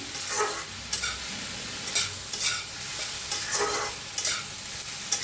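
Paneer aloo masala being stirred in a pan, with repeated scraping strokes of a spoon over a steady soft sizzle, close and moderately loud, no voices.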